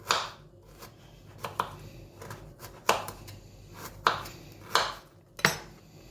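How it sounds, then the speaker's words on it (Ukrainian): Knife cutting a carrot into strips on a board, a series of sharp, close chops and knocks at an uneven, unhurried pace, about a dozen strokes, no talk. "Так, все, морку я порізала."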